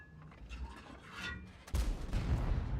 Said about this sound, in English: Again, we're snap shooting at his turret.